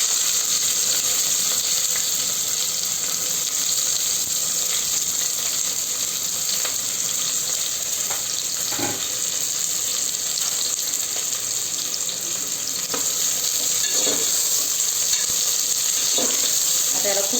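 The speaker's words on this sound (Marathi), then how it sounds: "आता हा कांदा फ्राय करून घेऊया" Onion frying in two spoons of oil, a loud continuous sizzle running throughout with scattered stirring clatter, steady and close.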